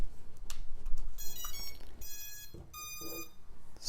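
BUGS 6 balance charger beeping as a 2S battery is plugged in, a few short bright electronic tones in quick bursts over faint background handling noise, with no speech.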